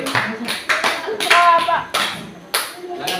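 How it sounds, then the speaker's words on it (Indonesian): A classroom claps for a student group, with short bursts of hand claps that come in several separate rounds and sit under a teacher's speech. "Tepuk tangan untuk Putri kelompok 4."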